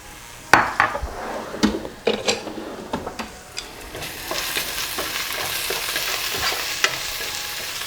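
Eggplant and tomatoes frying in a pan, with a series of sharp spoon scrapes and knocks against the pan, then a steady loud sizzle as stirring continues, close and without speech.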